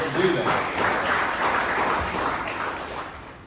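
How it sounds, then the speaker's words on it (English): Audience applause at a breakfast gathering with the Pittsboro mayor, a steady broadband wash of clapping that holds at even loudness for a few seconds with no talk over it. "You get a round of applause for voting to do that"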